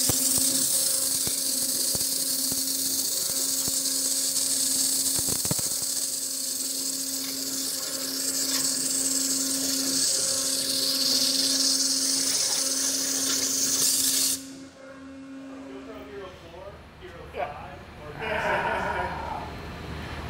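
A FlexJet waterjet cutter slices a GoPro camera in half with a loud, steady, high hiss and a faint tonal hum for about fourteen seconds, then cuts off abruptly to quieter clatter.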